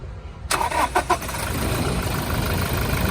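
A 2017 Toyota Innova Crysta 2.4 engine cranks in a few quick bursts, catches, and settles into a steady running hum, loud and close.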